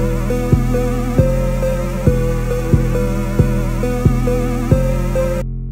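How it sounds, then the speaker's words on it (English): A heavy, sustained 808 bass in an FL Studio trap beat holds low booming notes under a repeating synth melody, with sharp percussive hits landing about every 0.6 seconds in a steady loop until it cuts off abruptly near the end. "the 808 starts just doing a similar pattern going hard."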